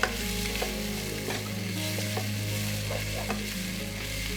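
Onions and other ingredients for goat leg soup sauté in a pan with a steady, close sizzle and occasional stirring scrapes, with no one speaking.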